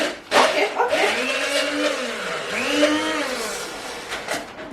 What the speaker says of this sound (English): Then I go in with my immersion blender.